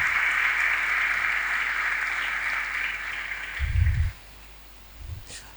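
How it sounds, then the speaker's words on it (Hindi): Loud applause from a church congregation during an Urdu-Hindi sermon, a dense sustained clapping roar that cuts off abruptly near the end, followed by a couple of low thumps. "जोरदार तालियां बजाएं"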